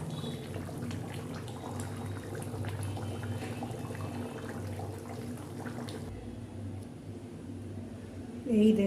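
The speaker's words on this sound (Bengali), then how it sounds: "এই যে আমার ঝোল ফুটছে মাংসের।" Chicken curry gravy bubbling in a pot on the stove, a steady low simmering rumble that runs for several seconds and then drops off, with a brief louder clatter at the very end.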